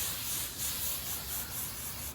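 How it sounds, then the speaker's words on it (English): Hairspray from an aerosol can is sprayed over a Halloween flower arrangement in one continuous close hiss that pulses slightly and then stops. "I'm just gonna give it a good old spraying over with the hairspray."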